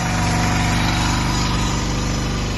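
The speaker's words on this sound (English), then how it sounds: "He's having to make a really wide turn to start cutting this grass." A lawn mower engine running while cutting grass in a yard, a loud, close, steady droning hum with no talking over it.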